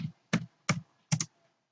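Four crisp keystrokes on a computer keyboard, close and clear, spaced fairly evenly with the last two in quick succession, no talking.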